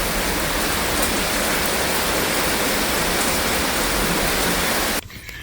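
Heavy rain pours down in a dense, steady hiss for about five seconds before cutting off abruptly.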